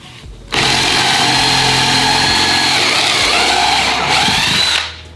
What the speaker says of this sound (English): remember, this is an 18-volt drill